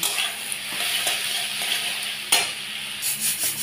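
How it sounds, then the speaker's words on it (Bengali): Potato pieces fry in a pan for ghugni, giving a steady close sizzle broken by a few scraping stirs and a sharper clatter near the middle, with no talking. "তো আমি একটু আলু দিয়ে করছি।"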